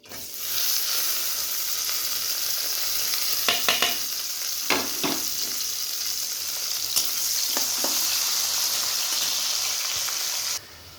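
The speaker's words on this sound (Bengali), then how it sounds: "এবার তেল দিয়ে দিয়েছি। এবার পেঁয়াজগুলো দিয়ে দিব।" Onions hit hot oil in a pan, making a steady, close hiss of frying punctuated by a few spatula knocks and scrapes before it cuts off abruptly at the end.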